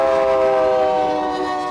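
A train rolls through Belgrade, Montana, with a loud, sustained horn blast and a steady rumble from the tracks, close and continuous with no talking.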